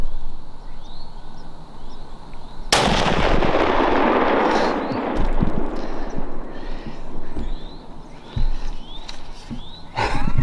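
A single loud, sharp gunshot cracks out while hunting a buck in the woods, followed by rustling and faint outdoor ambience with birds chirping, then another brief sharp knock near the end.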